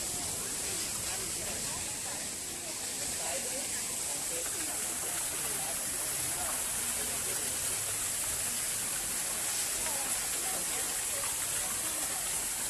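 Steady broadband rush of a waterfall, heard from nearby on a boat trip, continuous and even throughout with no clear voices above it.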